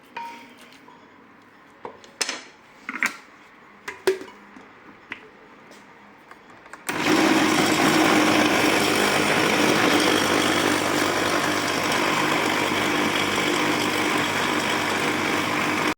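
A loud, steady food processor motor whir starts abruptly partway through and runs continuously to the end, preceded by a few sharp clicks and taps; the motor later overheats.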